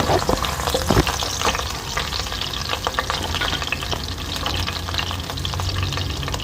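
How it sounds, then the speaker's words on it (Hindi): Three garlic cloves fry in a quarter cup of oil in a pan, a steady dense sizzle with occasional stirring scrapes, close and continuous without talk. "ये हमने 1/4 कप हमने ऑयल लिया है। इसमें लहसुन डाल दिए, 3 हमने लहसुन की कलियाँ डाली हैं।"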